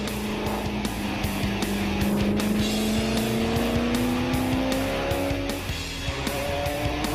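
A race car driven by an 18-year-old laps the Hungaroring circuit on a dry track, its engine a steady loud drone rising in pitch through the gears, with a brief dip and shift near the end.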